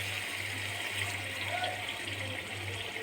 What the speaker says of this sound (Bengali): আমরা সামান্য কিছু পানি দিলাম।